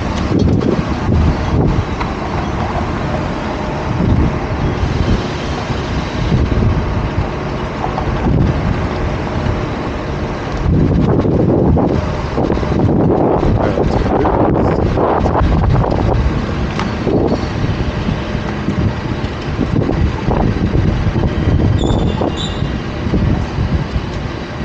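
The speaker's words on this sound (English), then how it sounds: "I think it's less windy on this other street." Gusting wind roars steadily across a San Francisco street, a loud broadband rush with surging low rumble and buffeting, continuous throughout with no talk.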